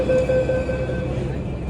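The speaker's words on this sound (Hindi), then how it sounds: "तो मेरा मेट्रो आ गई है, अब मैं मेट्रो में बैठूँगा" A metro train arrives at a station with a loud, steady rumble and a high whine from the carriages, close by and filling the whole moment, with faint speech mixed in.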